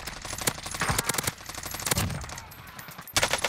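Gunfire in the video game Warzone, rapid bursts of automatic shots in close quick strings with brief pauses between.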